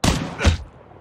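A single MSMC submachine gun shot in Call of Duty: Mobile, a sharp loud report followed by a second burst-like thump and a short decaying tail.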